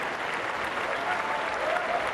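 A tennis crowd at the Queen's Club grass-court tournament applauds steadily and fairly loudly throughout, a dense continuous clapping with no voices standing out.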